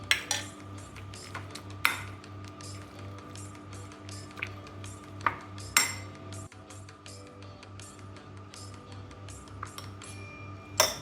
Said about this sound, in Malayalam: കുറച്ച് വെള്ളവും ചേർത്ത് ഇളക്കുക.